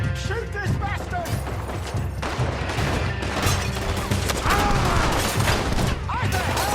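A Red Dead Redemption 2 shootout in which rapid gunfire crackles continuously beneath shouting voices, dense and loud throughout.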